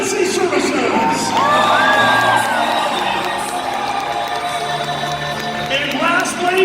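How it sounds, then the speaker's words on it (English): A monster truck event crowd in Utah cheers, whoops and applauds for first responders, a loud continuous roar of voices and clapping that fills the whole stretch, with a PA announcer talking over it. "Please give a round of applause to your firemen, policemen, and emergency services."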